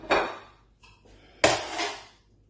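Seafood stick spring roll filling being mixed in a bowl, giving two short bursts of clattering utensil-against-dish scraping with a faint clink between them, close and alone.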